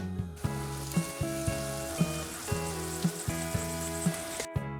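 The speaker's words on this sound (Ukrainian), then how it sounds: "розігріваємо сковороду з оливкової олії та обсмажуємо цибулю до прозорості" Onions fry in heated olive oil in a frying pan, a continuous close sizzle with a steady sequence of soft stirring knocks, under a low hum that stops abruptly at the end.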